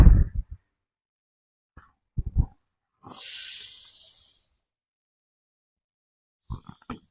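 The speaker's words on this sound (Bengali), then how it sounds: "সামান্য পরিমাণ একটু জল দেবো এতে আমি" Water poured into a hot pan of egg poppy-seed gravy gives one sharp burst of hissing steam lasting about a second and a half, close and clear, with brief handling knocks before and after.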